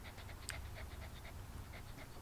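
A dog pants steadily and close up, quick rhythmic breaths repeating evenly over a low background rumble, with one brief sharp sound partway through.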